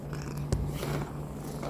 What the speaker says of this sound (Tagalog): Ang lambing pa naman ng pusa